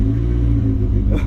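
A project Nissan D20 truck engine idles steadily right after its first start, a loud, close, continuous low rumble with a slight rise in revs near the end.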